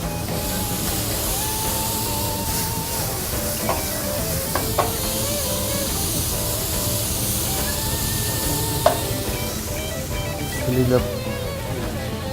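Onion and tomato sizzle in a pan with shrimp, a loud continuous hiss with a few clinks of a utensil and a voice talking over it.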